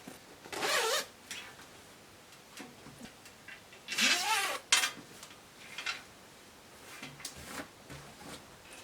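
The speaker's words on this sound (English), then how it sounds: "I will take my zipper allowance, attach my zip to this side, and turn it to the other side." A zipper on a homemade short yoke dress is handled during sewing, giving several separate bursts of rasping zip noise with quieter rustling gaps between them.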